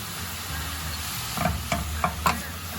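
Champignon mushrooms frying in a drizzle of oil for a risotto, a steady sizzle with a few sharp scrapes and clacks of stirring spoon against the pan, close and alone.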